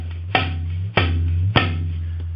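Three muted tabla "jik" strokes, each a sharp slap over a deep, sustained bass hum, spaced evenly and played close.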